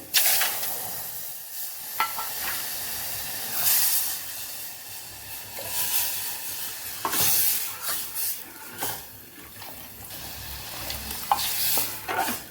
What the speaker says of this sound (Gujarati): હવે આપણે કઢીનો વઘાર કરી દઈશું